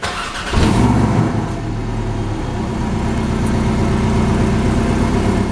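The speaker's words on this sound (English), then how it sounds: "put your foot on the brake and just twist the key to start" A 2017 Porsche 718 Cayman engine cranks and catches, then settles into a steady, throaty idle that rumbles on without a break.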